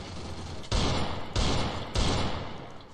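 Three heavy bursts of gunfire from a mobile battle-royale shooter game, evenly spaced about half a second apart, each loud and broad with a short tail, heard without talk.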